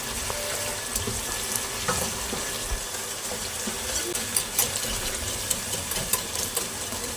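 Aloo gobi chicken masala roasting in oil in a pan, a continuous soft sizzle with scattered light clicks and scrapes of a spoon, fairly faint and steady.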